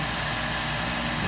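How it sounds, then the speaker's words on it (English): A Goodman gas furnace's combustion blower runs during ignition with a steady, even mechanical hum and whir, heard close and alone with no voices. "the pressure switches will verify that the combustion blower is running"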